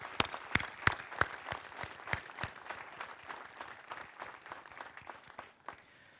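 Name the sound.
audience applause at military change of command ceremony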